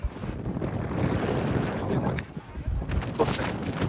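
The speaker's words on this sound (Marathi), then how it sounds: "तुम्हाला वाऱ्याचा आवाज येतच असेल याच्यात" Strong gusts batter an outdoor microphone on a windy day in Pune, producing a loud, continuous low roar that swells and dips throughout, with faint background voices underneath.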